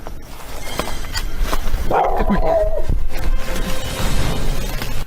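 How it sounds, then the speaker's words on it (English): A dog barks close by inside a derelict building, a short burst of loud yelps around the middle over a constant rumbling background with faint movement noise. "The team is startled back by a dog barking."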